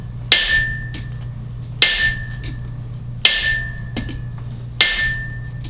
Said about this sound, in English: I'll smack it with the big hammer